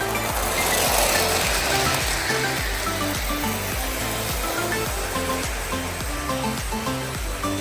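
An American Flyer Burlington Zephyr toy train with a Marx motor runs on its track, a steady buzzing motor whir with a repeating rhythmic clatter of wheels over track joints, continuous and fairly loud.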